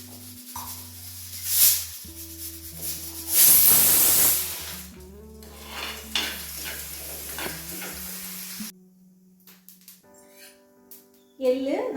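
Sesame seeds roasting in a pan: sizzling and scattered crackling pops with hissing bursts, close and moderately loud, under a sustained background tone, ending in a brief quiet stretch and a final burst.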